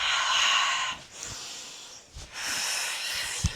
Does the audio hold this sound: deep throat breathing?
yes